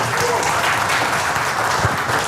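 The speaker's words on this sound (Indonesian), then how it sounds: "tepuk tangan buat Anda semua sekalian ya." Continuous applause from a crowd, fairly loud and steady for a couple of seconds, with speech faintly mixed in.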